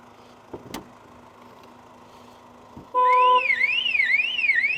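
A car alarm suddenly blares after a quiet stretch with a couple of soft knocks, starting with steady tones then a loud warbling, rising-and-falling siren.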